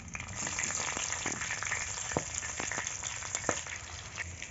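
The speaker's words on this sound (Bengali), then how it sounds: "একটু নাড়াচাড়া করে ভেজে নিব।" Bay leaf, nigella seeds and green chili frying in hot oil in a village kitchen, a steady close sizzle with occasional sharper pops and crackles throughout, no voices.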